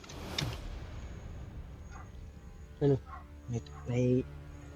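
A dog barks a few times in short, separate bursts against a quiet background, with a longer bark near the end.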